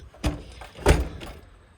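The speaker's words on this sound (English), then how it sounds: "this door I'm gonna exit through would be the door most people would use as the main door to the house" A house side door, the main entry used by most people, opens as someone steps out: two soft thunking bursts of latch and door movement about half a second apart, near and fairly quiet, with no talking.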